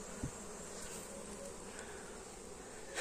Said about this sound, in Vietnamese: Ong là một đống nè.